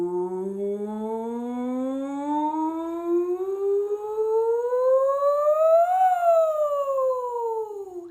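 Singer's voice imitating a siren through a straw during a vocal warmup, a clear single tone gliding smoothly upward from low to high, peaking, then sliding back down.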